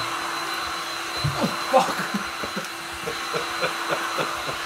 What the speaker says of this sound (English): I don't have a hairdryer. I do have a heat gun though.